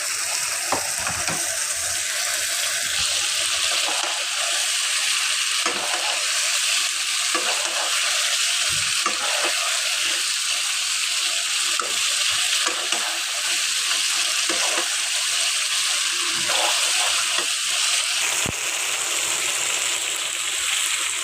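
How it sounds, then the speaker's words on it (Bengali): Spice paste with ground nut paste sautéing for a chicken roast, a loud continuous hissing sizzle with occasional faint stirring knocks underneath, steady and close throughout, no one speaking. "বাদাম বাটা, মশলা ভালো কষানো হয়ে গেছে।"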